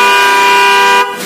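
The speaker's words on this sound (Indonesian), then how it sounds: "Ini klaksonnya Denso. Klakson pakai Denso." A Denso horn fitted to a Yamaha NMAX scooter blares in one loud, steady, bright tone for about a second, then cuts off abruptly.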